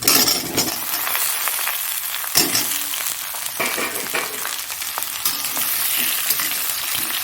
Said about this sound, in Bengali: পেঁয়াজটা হয়ে গেছে আর এবার আলুটা দিয়ে দিচ্ছি